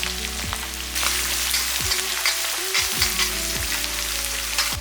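A large sliced onion frying in hot oil, a dense continuous sizzle with faint stirring, steady and close with no voices.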